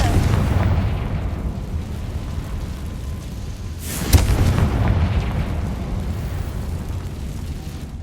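In the Hogwarts Legacy video game, a Confringo fire spell bursts with a single muffled boom about midway, set against a low rumbling game ambience that fills the rest of the stretch.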